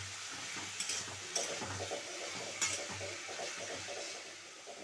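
Potatoes fry in oil in a pan with a soft, continuous sizzle, broken by a few faint scrapes of stirring.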